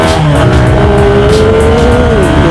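A GPX GR200R motorcycle engine pulls hard in second gear on a road ride, a loud, close, continuous whine that climbs steadily in pitch, then dips near the end as the revs ease.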